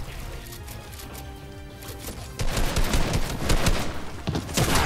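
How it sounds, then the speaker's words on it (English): Fortnite gunfire in a busy match, a steady background of distant shots giving way to louder, dense bursts of firing in the second half. "I'm getting shot in the back."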